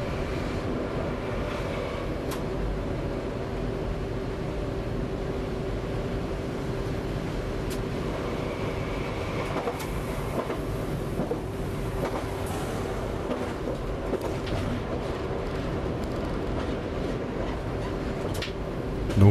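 Train running on the line between Arvant and Neussargues, a steady low rumble and rolling drone throughout with a faint hum, heard continuously from on board.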